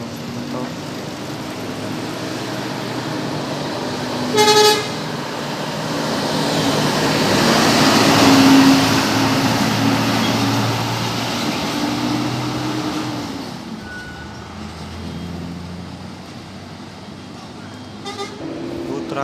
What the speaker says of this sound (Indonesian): Bus Restu berangkat meninggalkan Terminal Mojokerto.